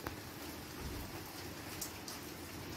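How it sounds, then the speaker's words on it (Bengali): Steady monsoon rain in a Bengal home keeps falling evenly in a faint, continuous wash of drops, with a few slightly sharper patters and no voices. "দেখো বৃষ্টি পড়েই যাচ্ছে একভাবে, কিছু করার নেই।"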